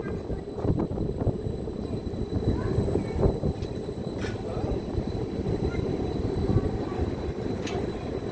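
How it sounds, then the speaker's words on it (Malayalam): Tram rolling past on an Edinburgh street, a sustained low rumble with some wind buffeting on the microphone, close and steady throughout. "ഇതേ ട്രാം പോകുന്നു."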